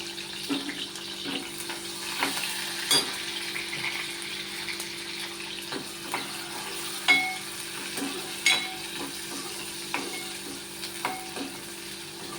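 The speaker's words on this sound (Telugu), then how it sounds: "ఇది బాగా వేగనిద్దామండి" Onion, green chili, curry leaves and tomato fry in a pan with a steady sizzle, while a spoon stirs and scrapes with sharp clicks every second or so, close by, with no talking.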